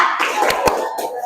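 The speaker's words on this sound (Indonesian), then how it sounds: "tepuk tangan" Students in a classroom clap together in a quick rhythmic spirit clap, with several sharp hand-clap bursts over a steady murmur of room noise and voices.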